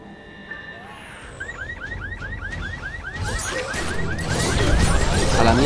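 A car alarm in the zombie-filled town of Kingsmouth in the video game The Secret World starts up with a repeating warbling siren. Gunfire-like crashes and game noise build loudly underneath and partly bury it.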